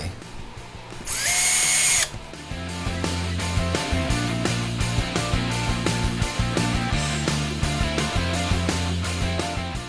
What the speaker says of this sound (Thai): ผมก็เอาฝาที่ใช้แล้วนะครับมา เพื่อที่จะมาเจาะรู